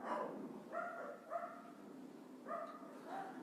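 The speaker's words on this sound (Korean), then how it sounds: "왜 이렇게 개들이 짖지?" Several dogs bark in short bursts, two or three barks at a time with pauses between them, sounding moderately distant and fairly quiet, with no speech over them.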